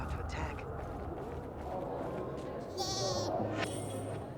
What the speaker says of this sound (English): There's the goats.